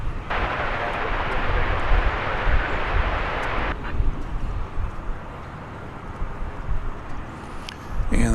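An American Airlines Dreamliner at DFW airport gives a steady, loud broadband jet roar that holds strong for about four seconds, then eases to a lower, more distant rumble.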